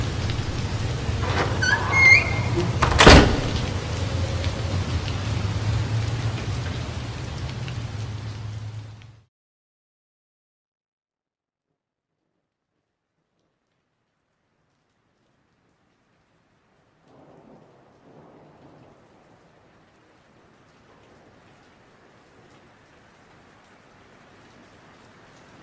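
Heavy rain pours down loud and steady with a sharp crack of thunder near the start, then cuts off abruptly into near silence, leaving only faint, distant patter later.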